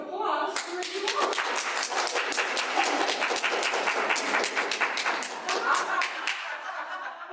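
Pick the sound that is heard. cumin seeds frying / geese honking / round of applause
round of applause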